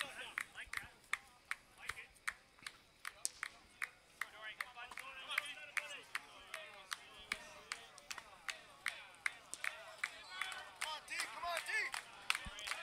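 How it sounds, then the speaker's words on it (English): Players in the Lexington Blue Sox baseball dugout clap together in a steady unison rhythm during an ICL semifinal game, sharp, evenly spaced claps repeating for several seconds with faint crowd murmur beneath. "Blue Sox dugout, clapping in unison, hoping for a big hit from Dorian."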